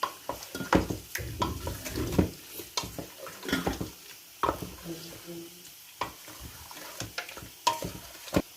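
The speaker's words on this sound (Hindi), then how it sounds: "तो अब हम इसको मिक्स करने लगे हैं।" Garam masala is stirred into chicken korma in a pot, with repeated scraping strokes and clinks of the spoon against the metal over a soft sizzle, close and irregular.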